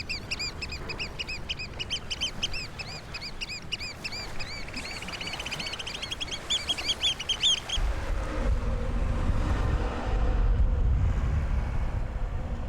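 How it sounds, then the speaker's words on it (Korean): Little terns and black-headed gulls on the Songdo tidal flat, giving rapid repeated high calls for several seconds, after which the calls fade under a steady low rumble of wind or water. "쇠제비 갈매기의 먹이 사냥과 검머리 갈매기의 신원 비행이 활기차다."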